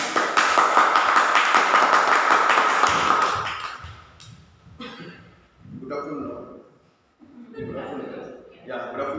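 A Toastmasters club meeting audience claps in a dense burst of applause that fades after a few seconds, then a voice begins speaking in the room.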